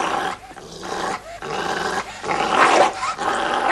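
A dog growls and snarls in rough, continuous bursts with brief pauses, fairly close and loud, in a bar setting with no clear talk over it.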